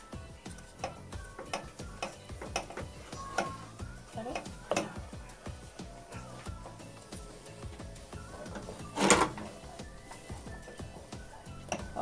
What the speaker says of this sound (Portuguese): E vamos mexer aqui até essa massa cozinhar